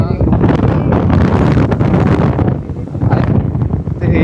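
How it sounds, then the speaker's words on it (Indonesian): Strong gusts of breeze buffet the microphone outdoors in a village, a steady rushing roar that swells and dips over a few seconds. "angin sepoi-sepoi"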